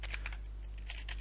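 A Linux terminal command is typed on a computer keyboard in a few quick, soft, close key taps, over a steady low hum.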